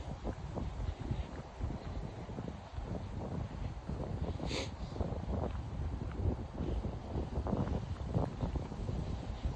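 Steady wind rushing outdoors on an open overlook at Fort Lee State Park, New Jersey, with a constant broad roar and gusty low buffeting against the microphone and no talking.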